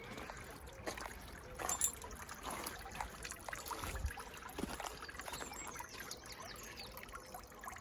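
A small garden waterfall trickles and splashes softly and continuously, a gentle close-by dribble with occasional louder drips.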